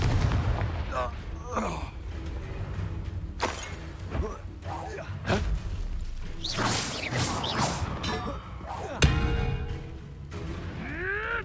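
Confringo fire spells blast repeatedly in Hogwarts Legacy, sharp bursts and whooshing impacts landing amid creature noises and crashes, with character voices talking over the action.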